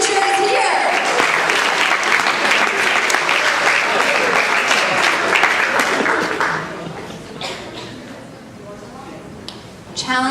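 Audience at a high school awards ceremony gives a big round of applause, dense sustained clapping filling the hall for several seconds before thinning out and fading, with a few scattered claps and a sharp sound at the end.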